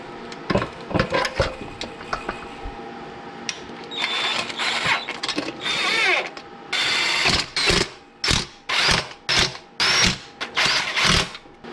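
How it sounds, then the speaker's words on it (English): A ratchet tightens the nuts and bolts on the intake manifold of an Acura MDX engine, sounding as rapid clicking bursts that come in repeated strokes, louder and more regular toward the end, with no voices. "lay the intake manifold on top, get all the nuts and bolts tightened down"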